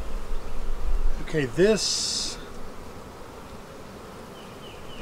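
Honeybees buzz steadily while two beehives are combined into one bee barn, with a brief voice speaking near the start over the close insect hum.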